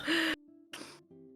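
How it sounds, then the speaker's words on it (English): Ghostly breathing from a creature in the fantasy game Edge of Twilight: Path of Hades, heard as a loud breathy gasp followed by quieter resonant breaths with a low tonal hum underneath, close and isolated. "You kind of always hear him breathing"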